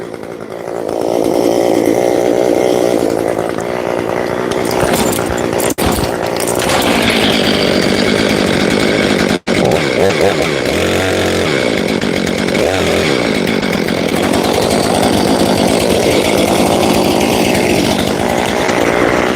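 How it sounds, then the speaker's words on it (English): A fuel-injected chainsaw runs loud and close, a continuous buzzing engine note that holds steady for nearly twenty seconds with brief dips and a momentary cut, no talking. "It's a fuel injection chainsaw."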